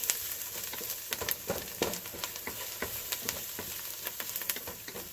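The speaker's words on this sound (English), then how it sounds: "I'm going to basically cook this stuff until the garlic gets a little slightly brown" Garlic frying in a pot for spaghetti sauce, a dense close-up sizzle with scattered crackles and pops and occasional stirring scrapes, continuous and fairly loud, with no talking.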